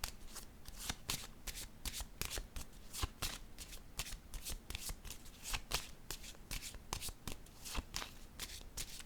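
Tarot cards shuffled by hand in quick repeated riffles and slaps, an even rapid rhythm of crisp papery bursts, close up and fairly quiet, with no voice over them.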